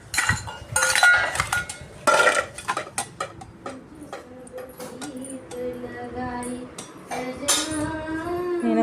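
Used dinner plates, pans and a tava clattering and scraping in a home kitchen, with sharp irregular clinks and knocks early on, then ringing metallic tones later, close and fairly loud.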